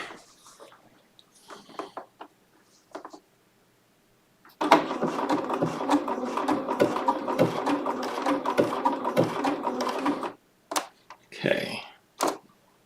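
A Bernina sewing machine running a single blanket stitch makes a loud, steady mechanical whirring burst of about six seconds, with clicks and handling noises before and after.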